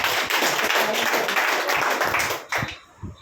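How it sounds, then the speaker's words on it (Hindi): A seminar audience at a business plan presentation claps for itself, a dense burst of applause that fades out after about two and a half seconds, leaving a few scattered claps. "तो ये एक बार तालियां बजाओ अपने खुद के लिए"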